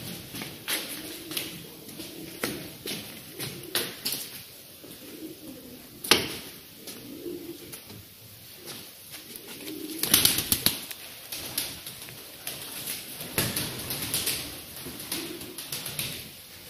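A smoky male tumbler pigeon coos nearby, with bursts of wing flapping and some shuffling, under a steady faint high-pitched background hiss; no talking.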